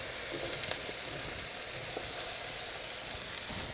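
A soft, steady sizzle of mushrooms stir-frying on high heat for shrimp lo mein, even hissing with a few small pops and crackles, quiet and uninterrupted.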